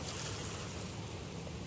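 Ocean waves as a steady, soft, broadband wash of surf with no distinct breaks, low and even throughout.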